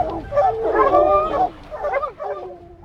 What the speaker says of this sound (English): these ambitious canines mean business